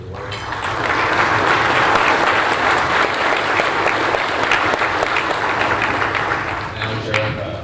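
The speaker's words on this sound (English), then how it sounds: "join me in giving him a round of applause and thank him for his work" Sustained applause from a large audience at a sheriff's office deputy trainee graduation ceremony in Hidalgo County, dense steady clapping filling the room for several seconds, with some crowd murmur and voices underneath before it tapers.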